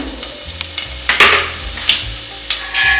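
Cumin seeds hit hot oil in a pan and sizzle with a dense crackle, with sharper bursts of spitting and popping. It is close and loud, and no one speaks.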